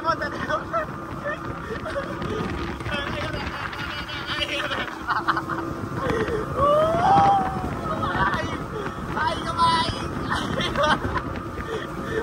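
Speedboat motor running on a river in Palembang, a steady broadband engine drone with wind buffeting the microphone, heard up close with people chatting over it throughout.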